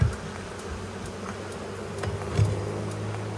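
A steady, droning hum of thousands of honeybees buzzing close by inside a roof, with a few louder individual bees passing near.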